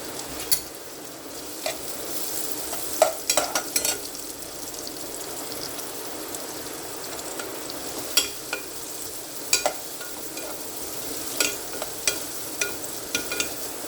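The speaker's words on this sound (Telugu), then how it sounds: "ఫ్రై అవుతున్నాయి, మరీ ఎక్కువ ఫ్రై అయిపోనివ్వకూడదు." Mixed vegetables, including onions, beetroot and carrot, fry in a hot pan for hot and sour soup, giving a continuous close sizzle with scattered stirring scrapes and clicks throughout.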